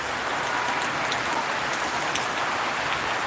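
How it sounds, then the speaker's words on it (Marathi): A sudden downpour of rain drums steadily and loudly on surfaces nearby, a continuous broadband wash of falling drops without any talking. "पावसाचा आवाज येतोय का तुम्हाला मला सांगा"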